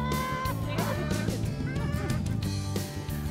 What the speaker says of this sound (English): it's a chicken roundup